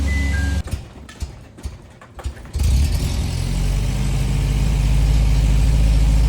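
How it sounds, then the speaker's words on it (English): A 1980 MG engine warming up before a dyno run: after a few seconds of broken low noise it settles into a steady, close, loud idle rumble that continues without pause. "Run the car warm up a little bit before I put her up the dyno."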